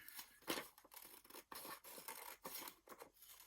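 Scissors cutting out a paper picture of a couch for a junk journal, quiet close snips and crisp paper rasps in an irregular run of short strokes, with no voices.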